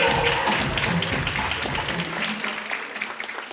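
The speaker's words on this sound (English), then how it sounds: "I think the panel needs another round of applause" An audience applauds a panel at an impact report launch event, a dense, steady wash of clapping that starts loud and gradually thins and softens over a few seconds.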